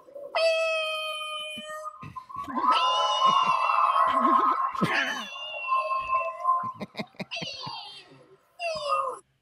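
A human voice imitates a cat, giving several drawn-out, wavering meows with short pauses between them, loud and close.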